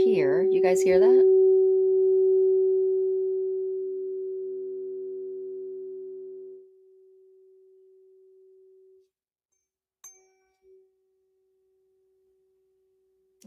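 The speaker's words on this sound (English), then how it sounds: "384 hertz. This is for the throat chakra." A steady pure sine tone at 384 hertz, played for throat chakra sound therapy, holds loud and even after a brief opening burst, then fades out partway through, leaving near silence with faint clicks.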